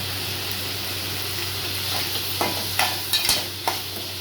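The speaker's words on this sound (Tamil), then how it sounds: "கொஞ்சம் எண்ணெய் ஊற்றலாம்." Oil is poured into a pan of bitter gourd stir-fry with pepper and sugar. A continuous close sizzling hiss carries several quick scraping stirs clustered toward the end, and no one speaks.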